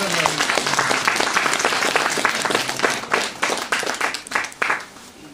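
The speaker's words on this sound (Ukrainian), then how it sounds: "Оплески" Applause from a crowd, dense clapping that carries steadily and then breaks into a few fading bursts near the end.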